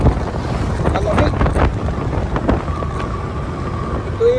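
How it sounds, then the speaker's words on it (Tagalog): Outdoor wind near Tagaytay and Talisay, Batangas, gusting against the microphone as a broad rumbling buffet that rises and falls, with a few faint tones and brief sounds mixed in. "Sarap na hangin guys, pag tumakas katawan ng tao guys."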